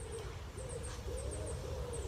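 A bird, likely an owl, calls in a forest at night, a series of soft, wavering hoots repeating steadily at moderate distance over quiet background hiss.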